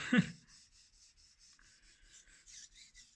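A small knife is drawn across a sharpening stone in a steady series of soft, rhythmic rasping strokes, about a dozen quick passes after one louder initial scrape, close and quiet.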